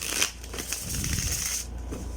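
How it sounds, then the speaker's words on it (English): A tarot card deck being shuffled by hand, a few quick riffling bursts of cards close up and fairly quiet, with no talk. "Yep, they do shuffle really nice."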